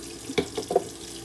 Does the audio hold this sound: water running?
yes